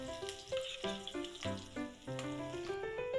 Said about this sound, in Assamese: মই কেৰাহীত তেলো দিলোঁ আৰু এতিয়া পিঁয়াজ দি দিছোঁ। এতিয়া এইখিনি ভাজি ল'ম ধুনীয়াকৈ।